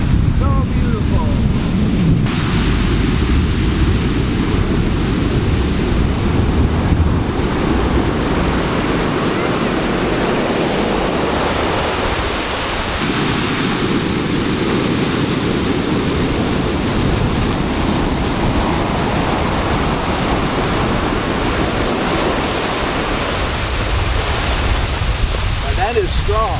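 Steep-beach ocean waves at Monterrico, Guatemala surge in a loud, continuous wash, with wind buffeting the microphone; one swell builds, crashes and drains back forcefully before the next rolls in, no voices over it.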